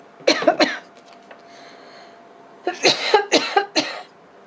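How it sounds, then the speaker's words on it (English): A person coughs in two harsh clusters, a short burst followed by a longer run of repeated coughs after a quiet pause. "seem to have got a bit of a coughing fit going"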